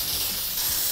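Maxima contact cleaner hisses from its spray can in one continuous close burst lasting about a second.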